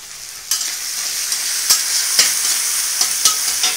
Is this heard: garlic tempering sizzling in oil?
yes